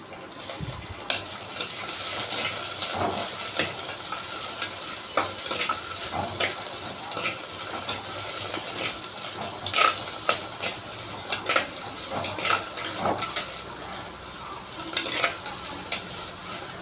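Onions sauté in a pan with garlic for a curry, keeping up a steady, close sizzle throughout, broken by frequent scraping and clattering strokes of a spoon against the pan.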